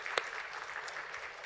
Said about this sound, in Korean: 하나님께 영광의 박수 올리도록 하겠습니다.